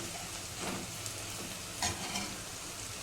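Spice masala with asafoetida and turmeric sizzles in hot oil for a mixed vegetable curry, a steady soft frying hiss with occasional stirring scrapes, close up and without talk.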